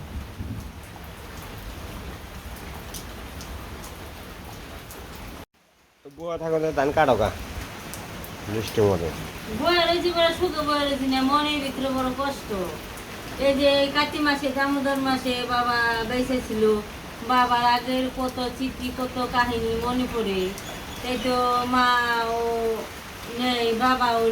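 Steady rain hisses alone at first, then after a brief break continues as a constant wash beneath a nearby voice that talks in a rising and falling, sing-song way.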